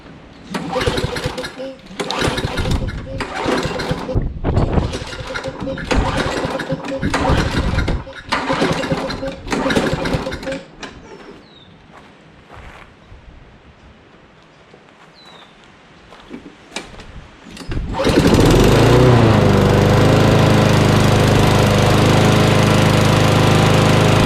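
A lawn mower engine with a faulty carburetor throttle linkage cranks in several loud pull-start bursts, then catches and roars into a steady, loud running drone close by.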